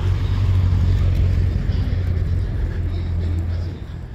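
A car rolls past on a city street in Ensenada, Mexico, a loud low engine rumble that holds steady and then fades slightly as it moves away, with no voices.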